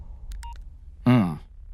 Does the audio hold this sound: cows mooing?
no